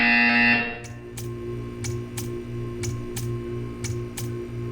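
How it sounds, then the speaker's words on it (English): In the video game Portal 2, a loud electronic buzzer tone cuts off, then a regular series of sharp clicking beeps repeats about twice a second over a steady low electronic hum. "You will hear a buzzer."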